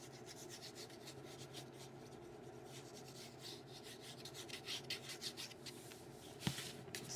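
Folded paper is burnished by hand for a hard travel notebook cover, a steady close rubbing and rasping that grows slightly louder and choppier toward the end, with a single sharp tap.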